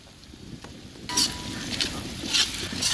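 Onion and ginger garlic paste frying in a large pot over a village-style outdoor cook fire for goat head gravy, a loud close sizzle swelling as ingredients hit the oil, with stirring scrapes.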